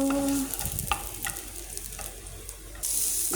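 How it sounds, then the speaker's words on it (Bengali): Dried red chillies and garlic frying in a pan, a brief sizzle with light stirring scrapes that briefly quiets, then flares louder at the end, no voices. "ওখানে দিয়ে দিচ্ছি দুটো শুকনো মরিচ একটু রসুন ভেজে নিই"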